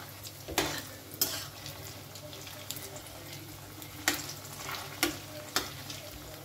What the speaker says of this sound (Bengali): এটাকে প্রায় 1 মিনিট ধরে একটু ভেজে নেব।